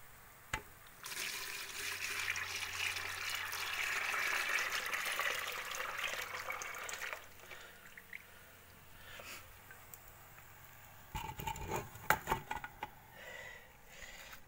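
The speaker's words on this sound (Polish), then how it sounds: "już jest dosyć dużo tego wosku, trzeba go przelać" Melted beeswax from rendered old honeycomb frames is poured by one hand from a heavy container, a steady liquid pouring sound lasting several seconds, followed by clunks and handling knocks.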